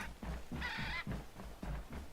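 A strange, warbling bird call from an animal in the video game Hytale, heard once as a short bright burst over a steady, rhythmically pulsing game ambience.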